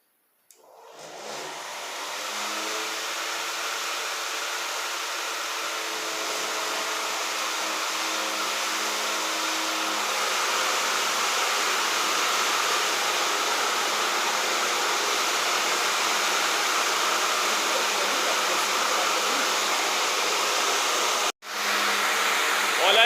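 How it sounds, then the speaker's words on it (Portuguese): Three engines of an MD-11 trijet run with a steady, broad roar that builds over the first seconds and holds loud and constant, with a brief dropout near the end. "Os 3 motores aí funcionando aí"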